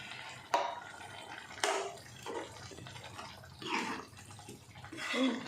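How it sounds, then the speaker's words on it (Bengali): Water poured in a small amount into a cooking pot with carrots and potatoes on a gas stove, giving several splashy bursts and trickles close by, with no talk. "একটু সামান্য জল দিয়ে দিচ্ছি।"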